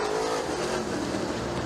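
Late model race cars at Lincoln Speedway accelerating hard into the first turn after the green flag, a loud continuous engine roar from the pack with no pause.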